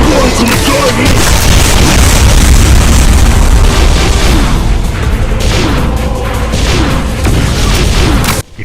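Volley of bomb explosions fired by a Mastermind boss in a Doom game mod, a dense run of loud booming blasts packed together and rumbling continuously, with a faint voice underneath.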